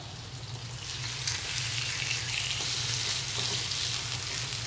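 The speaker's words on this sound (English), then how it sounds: "I'm going to pick this up and put this on the pan, and hopefully it'll sizzle like I need it to" Chicken breast sizzles steadily in a hot frying pan, a continuous close hiss of frying with faint crackles and a low hum beneath, no talking.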